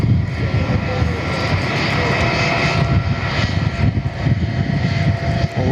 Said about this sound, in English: They've got their takeoff clearance.